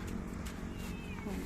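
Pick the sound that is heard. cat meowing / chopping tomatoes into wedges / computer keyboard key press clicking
cat meowing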